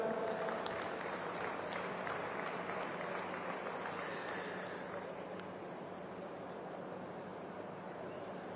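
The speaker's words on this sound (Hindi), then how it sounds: "छात्राओं के लिए जोरदार तालियां" An audience at a youth dialogue and Van Mahotsav event in Panchkula applauds the students. The clapping is faint and distant, a steady wash of many hands that eases off slightly toward the end.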